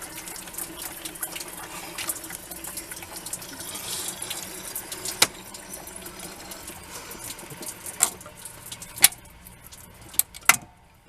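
Water poured from a gallon jug into a car radiator during a water pump and thermostat replacement, a continuous trickling gurgle with a few sharp clanks near the end, close with no talk.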